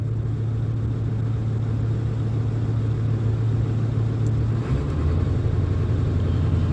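Diesel truck engine idling through a 4-inch exhaust, a steady deep low rumble that holds constant throughout, close and fairly loud with no voices.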